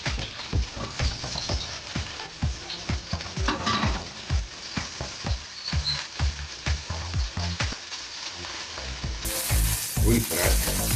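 Butter fries in a pan for paprika chicken, giving a steady close sizzle broken by rhythmic stirring scrapes and knocks throughout.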